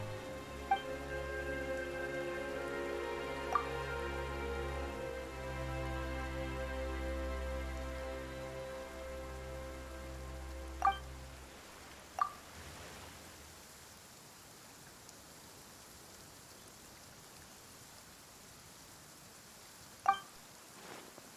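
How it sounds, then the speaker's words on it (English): Rain in Genshin Impact rising out of a sustained musical drone, soon becoming a steady broadband hiss of falling rain broken by a few sharp ticks. "Why is it raining all of a sudden?"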